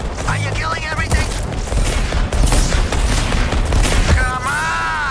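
Rapid bursts of gunfire from alien-shooting combat in the Suicide Squad: Kill the Justice League video game, dense and loud throughout with booms and whooshing effects layered over game music.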